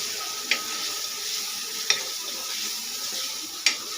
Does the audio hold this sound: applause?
no